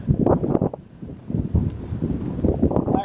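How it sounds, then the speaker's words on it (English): Steady wind rush buffets the microphone during a road bike group ride on flat rolling terrain, a loud continuous roar with gusty swells, with no talking in between. "So we got a wind from the west today."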